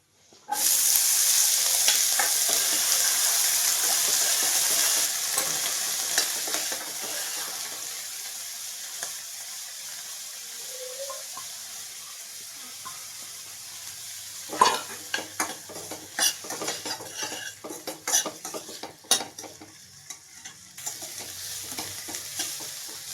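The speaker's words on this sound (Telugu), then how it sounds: "వెల్లుల్లిపాయ ఇలా వేగింది కదండి ఇప్పుడు ఉల్లిపాయ వేసుకుందామండి" Onions frying with garlic in a pan, a loud continuous sizzle at first that eases off, then clinking and scraping stirs that come and go.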